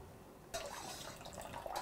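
Plant dye liquid poured into a pan, a soft continuous splashing pour that starts abruptly after a short quiet moment and runs steadily to the end.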